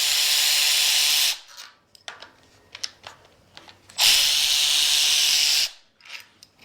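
A power tool spins out bolts on the front of a 2JZ engine head from a Datsun, two loud sustained whirring bursts separated by quieter clinks and handling noises.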